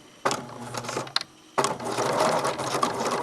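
A sewing machine stitches quilt binding in two loud, close bursts with a brief pause between them. Its needle chatters rapidly and the motor whirs throughout.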